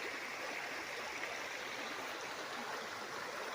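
Steady rushing water of a river below a farm property in Nagcarlan, Laguna flows continuously, a full broadband wash with no breaks or voices.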